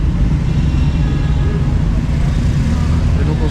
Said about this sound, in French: dans le bruit, les tuk-tuk, les motos, les voitures